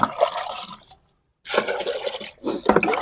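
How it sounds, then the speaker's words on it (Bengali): Diluted vegetable-compost water is poured onto plants in a rooftop bean garden, a close splashing pour that stops for a moment and then resumes in short bursts. "এর সঙ্গে আর আমি এক্সট্রা কিছু জল মিশিয়ে নিলাম"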